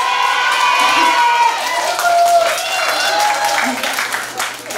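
A concert crowd cheers and applauds continuously on a summer night, with shouting voices rising over steady clapping, loud and close throughout.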